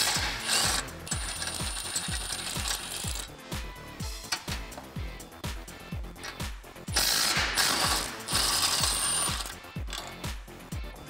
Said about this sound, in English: I'm gonna be using a 21 millimeter socket in order to remove those four bolts that are holding in